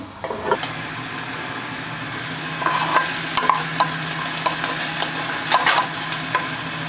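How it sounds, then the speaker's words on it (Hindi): Chopped onions sizzle steadily in a hot pan while a utensil stirs and scrapes them, the scraping strokes recurring every second or so over the continuous frying hiss, with no talk. "प्याज थोड़ा सा ब्राउन होना शुरू करता है तो फिर मैं इसमें बाकी चीज़ें ऐड कर दूंगी।"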